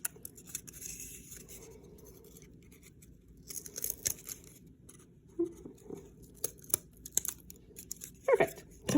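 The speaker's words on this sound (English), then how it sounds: "So cut a 2-inch by 1-inch piece of cardboard." Scissors snipping through a small piece of cardboard, a few crisp short cuts close by, growing more frequent toward the end in an otherwise quiet room.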